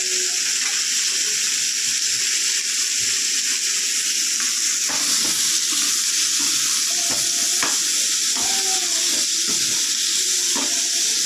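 Food frying in a kadai with a continuous bright sizzle, punctuated by irregular spoon scrapes and knocks against the pan, steady and close, with no one speaking.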